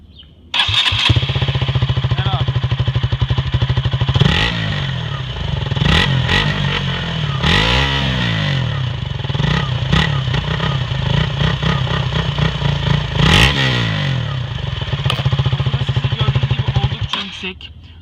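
KTM Duke 200 single-cylinder motorcycle engine starts and idles, then revs up in several loud, close bursts that rise and fall over a steady throbbing idle, with people talking nearby.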